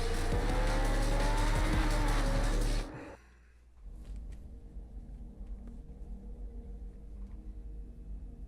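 A car revs and roars in a racing video game, loud engine drone with tire noise for about three seconds, then drops suddenly to a quieter low rumble for the rest.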